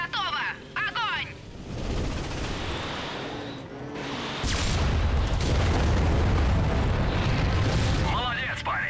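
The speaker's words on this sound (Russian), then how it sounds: "Орудие готово! Огонь!" An ion cannon in the PS4 Ratchet & Clank game fires, and a heavy rumbling blast follows, building into a loud, sustained roar, with brief voices speaking before and after.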